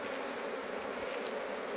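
Honey bees buzzing steadily during an open beehive inspection, a dense, even hum close by with no talk.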